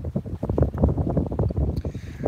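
Wind gusting across an open bay, a steady low rumbling buffet against the microphone with a few brief bumps near the end, loud and continuous with no talk.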